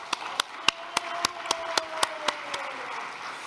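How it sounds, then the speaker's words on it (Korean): Sparse, rhythmic clapping at a year-end church thanksgiving service, roughly a dozen distinct hand claps spaced evenly with a faint tone beneath, fairly quiet and without talk. "큰 응원의 박수를 부탁드립니다"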